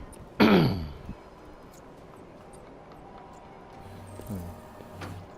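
A single harsh throat-clearing cough from a character in the video game Detroit: Become Human bursts out near the start, followed by quiet low hum and faint rhythmic thuds.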